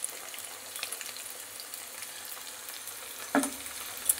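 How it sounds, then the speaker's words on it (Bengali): Cashews and raisins fry in a small amount of oil in a pan, giving a soft, steady sizzle throughout, with a brief louder clatter near the end. "আমি এগুলোকে একটু ভেজে নিই।"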